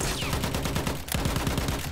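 Rapid, sustained gunfire in the World War I shooter Battlefield 1, with dense bursts of shots and thumping explosions rattling continuously and loudly, no voices heard.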